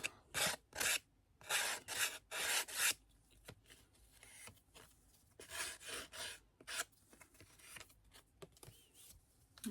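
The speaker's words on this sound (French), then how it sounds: "Je vais un petit peu prendre ma lime." A scrapbooking card for a first communion is rubbed with a hand file in short, rhythmic rasping strokes, close and fairly quiet, in two bursts separated by a pause.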